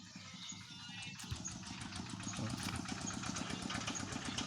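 Home-built ride-on farm tractor engine revving steadily with a throbbing, rhythmic chug that grows slightly louder and holds at high throttle, close by and without talk.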